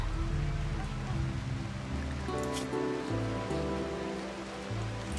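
Rain falls steadily in the video game Rimworld, a constant soft wash of droplets heard alone without talk, layered over sustained low tonal game music.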